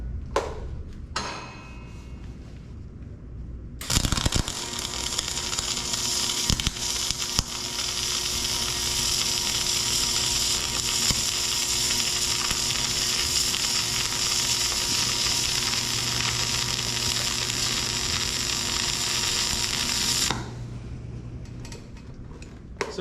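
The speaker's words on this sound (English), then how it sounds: "Now let's get to welding." MIG (GMAW) spray transfer weld burns steadily for about sixteen seconds, a loud continuous crackling hiss close up, with brief clicks and quiet before and after.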